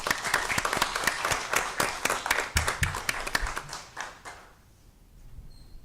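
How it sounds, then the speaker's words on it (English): Applause at a school district governing board meeting, a small group's sharp, distinct claps in quick succession, close and fairly loud, thinning out and stopping near the end. "Let's go ahead and give them a round of applause."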